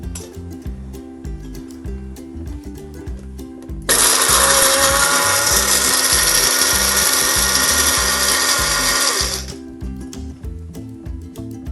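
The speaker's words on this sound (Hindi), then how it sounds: "अब हम ग्राइंड कर लेते हैं साबुत लाल मिर्च, दालचीनी, कड़ी पत्ता, लौंग, साबुत काली मिर्च और अनारदाना।" Electric grinder pulverising whole red chillies, cinnamon, curry leaves, cloves, black peppercorns and dried pomegranate seeds for chaat masala, a loud steady whine of about six seconds starting abruptly and cutting off, with rhythmic kitchen music before and after.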